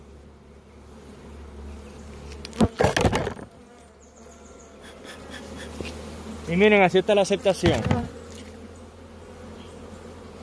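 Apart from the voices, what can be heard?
honeybees buzzing around a hive frame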